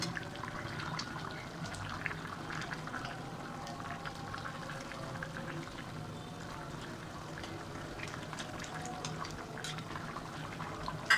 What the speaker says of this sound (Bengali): মাছটি এখন আমি ঢেলে দিয়েছি।